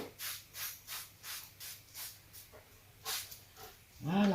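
Repeated short airy pchit bursts from a spray bottle misting, about ten even puffs close by, followed by a puppy's brief whimpering yelp at the end.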